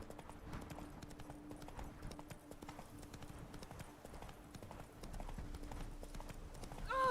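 Roach the horse trots in The Witcher 3: Blood and Wine, a steady, fast clip-clop of hooves running throughout, with game ambience beneath and a brief rise in rumble near the end.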